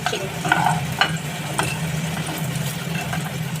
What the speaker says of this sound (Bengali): লাল করে ভালো করে ভেজে নেব